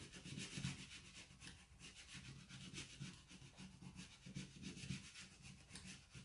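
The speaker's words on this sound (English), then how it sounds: "Give it a good scrape" Plastic scraper pressed and rubbed firmly across a freshly applied vinyl decal cut on a Silhouette Cameo, giving steady, close, raspy back-and-forth scraping strokes with no talk.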